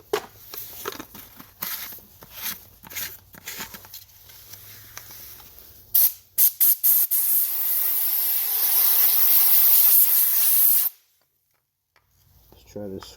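A Harbor Freight portable sand blaster gun sprays baking soda in a loud, steady close hiss lasting several seconds before cutting off abruptly, preceded by scattered handling taps and brief bursts.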